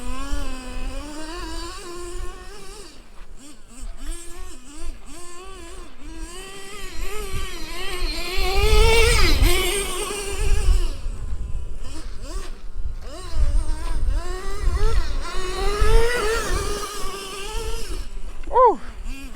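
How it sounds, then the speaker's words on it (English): Nitro engine of a Traxxas T-Maxx 3.3 RC monster truck buzzes and whines, rising and falling in pitch as the throttle is worked, fairly close and continuous, with an excited voice breaking in briefly. "let's get to finally running the TMAXX"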